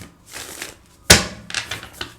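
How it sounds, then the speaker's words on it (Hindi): A deck of tarot cards being shuffled, heard as soft riffling rustles followed by one sharp slap of cards and a few lighter taps, close and with no talk. "ओके, एक और शफल कर लेते हैं।"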